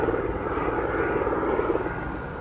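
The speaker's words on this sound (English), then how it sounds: "There's a helicopter." A helicopter flies overhead near a Hollywood hillside, its steady engine and rotor drone loud and continuous, without any talk.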